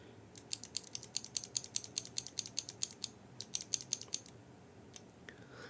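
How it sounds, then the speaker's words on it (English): Keys pressed on a mechanical keyboard, a quick run of crisp clicky strokes, a short pause, then a few more, close and fairly quiet with no talking. "That is exactly like a mechanical keyboard. Now listen carefully. I'm pressing my keyboard now."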